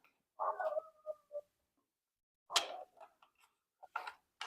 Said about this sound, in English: He is barking.